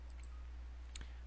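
A single mouse click on a computer's next button in security server software, one quiet sharp tick near the end of a short stretch of low hum.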